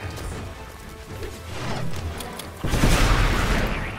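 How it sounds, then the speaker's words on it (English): Loud, rapid explosions burst in the Magicka video game, a dense barrage of booms and crashes that swells into a heavier, continuous blast near the end. "Yay, explosives."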